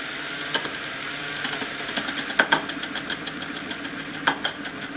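A chisel scrapes a wobbling RSG disc spinning on a lathe, catching it in quick, uneven ticks and chattering bursts over a steady motor hum.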